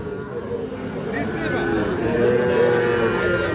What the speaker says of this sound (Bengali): এই পাশে একটা সার বাছুর দেখতেছি।